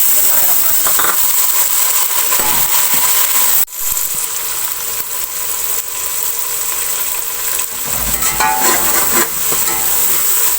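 Chopped tomatoes frying in a pan after onions have been browned, for an aloo chicken curry: a steady, close hiss and sizzle throughout, with a brief dip partway and faint stirring clatter, and someone talking over it.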